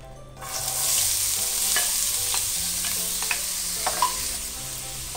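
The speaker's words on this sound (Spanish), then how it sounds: "Ahora voy a sofreír la cebolla" Onion sautés in a frying pan, starting with a sudden hiss that settles into a steady sizzle, with occasional light scrapes of stirring near the pan.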